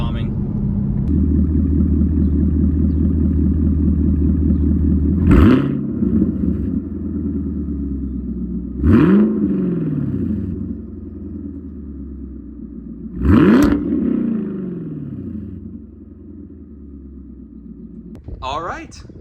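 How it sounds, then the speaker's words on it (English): A Chevrolet Camaro with an MBRP axle-back exhaust idles with a deep rumble in a garage, punctuated by three sharp rev blips spaced several seconds apart, each dropping back to idle, with brief talk near the end. "on to the rev bombing."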